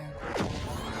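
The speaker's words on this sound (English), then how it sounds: "a little bit of a Rogue One moment there, crashing into the thing" A heavy crash from the Star Wars Outlaws game trailer, a single loud smash with a swooping whoosh, set in a dense cinematic soundtrack.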